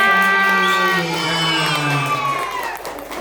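A crowd of primary-school children cheers and shouts loudly in unison, voices rising and sliding together in a long excited whoop at a school event, with clapping mixed into the noisy burst.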